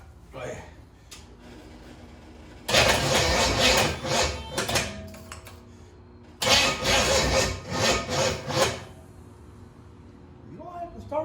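A 1974 Chevy Nova's Chevy 283 V8, first start in 50 years, cranks and briefly catches twice, loud bursts of roaring revs separated by idle pauses, with people talking quietly in between.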